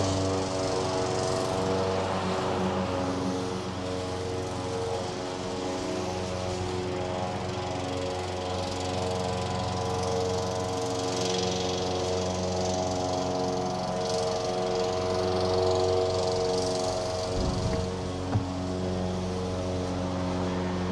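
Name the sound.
specialty lawnmower mowing grass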